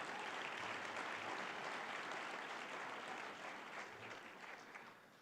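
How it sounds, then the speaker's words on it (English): An audience at a girls and women in sports luncheon applauds, a dense, steady wash of clapping that fades slightly toward the end, with no talking over it. "Give Dan a round of applause"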